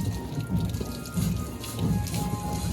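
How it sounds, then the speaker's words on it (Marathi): Steady rain patters down in a dense, continuous hiss of drops striking surfaces, loud and close without any voices. "पाऊस"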